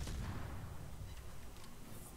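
Heavy 127 mm naval gun fire in a video game, a deep booming blast that rolls on and fades over a couple of seconds, loud and continuous.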